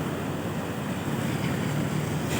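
Floodwater from San Mateo, Rizal surging through the Manggahan floodway in Pasig toward Laguna de Bay during a typhoon, a continuous loud rushing roar with wind buffeting the microphone.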